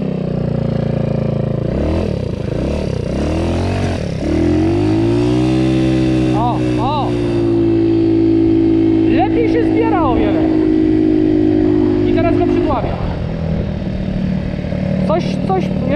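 A tuned scooter with a new exhaust revs hard and loud close by, its engine pitch climbing and falling through repeated throttle bursts over a steady buzzing idle.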